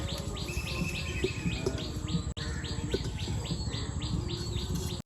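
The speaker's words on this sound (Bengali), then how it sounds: "ওই দেখো পাখি ডাকছে" Repeated bird calls ring out in regular series over a steady chorus of insects, outdoors in the Sundarbans forest at moderate distance.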